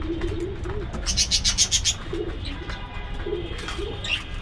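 Pigeon or dove chicks coo in low, repeated soft bursts close by, mixed with brief high chirps and a bird-like squeak, over a faint background rumble.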